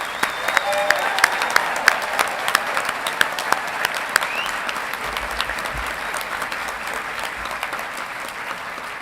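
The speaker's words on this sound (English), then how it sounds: "Please join me in a round of applause in congratulating our graduates on this happy occasion." A large commencement audience applauds graduates of an engineering college, a dense, sustained round of clapping filling a big hall, with scattered sharper individual claps and no talk over it.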